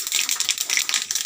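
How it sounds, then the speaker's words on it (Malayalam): Mustard seeds crackle and spit in hot coconut oil in a pan, a dense, continuous run of sharp little pops and sizzle, close and steady throughout. "കടുക് പൊട്ടി വരുമ്പോൾ കുറച്ച് നീങ്ങിയിരിക്കണം"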